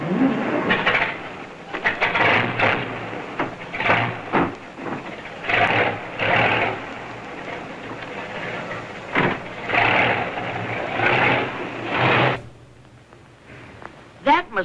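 An old car engine chugs and revs unevenly as the vehicle backs up into a garage beside a tool shed, with voices talking over the running motor.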